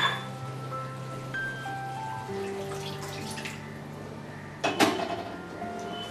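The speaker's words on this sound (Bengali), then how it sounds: "দইয়ের বাটিটা ধুয়ে আরো অল্প একটু জল দিচ্ছি" A yogurt bowl is rinsed and the water poured into masala for a potato and brinjal curry: soft clinks and faint trickling, then a short, louder splash and clatter near the end.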